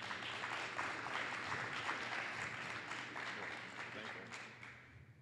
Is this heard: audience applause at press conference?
yes